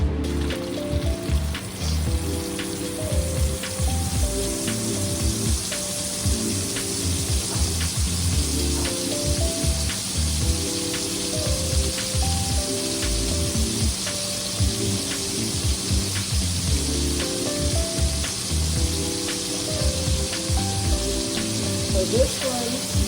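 Grass-fed beef, 100% grass-fed, sizzles steadily in a hot pan, a dense continuous crackle at moderate loudness with faint background hum and occasional low voice.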